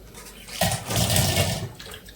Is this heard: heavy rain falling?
no